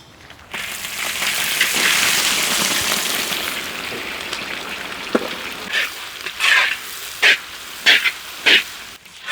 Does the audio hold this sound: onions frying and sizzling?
yes